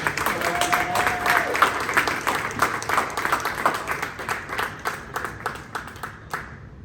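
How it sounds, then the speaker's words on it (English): A middle school ceremony audience claps for Isaiah Simpson, with sustained applause and some crowd noise that thins out and stops at the end. "So please clap it up again for Isaiah Simpson."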